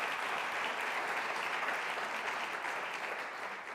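Applause in a church service fills the room with steady, dense clapping from the congregation, moderately distant and fading slightly at the end.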